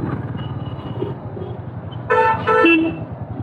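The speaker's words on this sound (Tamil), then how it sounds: "பைக்கு ஹார்ன் அடிச்சுட்டு போயிட்டாருங்க அவரு" Two short honks from a motorcycle horn sound over the steady rumble of an engine and road noise.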